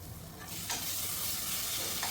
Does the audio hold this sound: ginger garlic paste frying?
yes